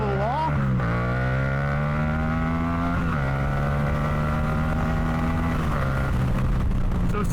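Yamaha FZ-07 motorcycle accelerating hard, a loud close engine roar climbing through the revs with brief dips at each gear change, continuous over the whole stretch.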